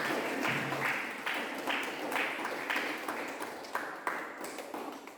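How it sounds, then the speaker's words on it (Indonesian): Students applaud in a classroom after an experiment, a quiet, somewhat distant patter of many hands in uneven bursts lasting several seconds, with no talk over it. "Silakan tepuk tangan untuk kita semua."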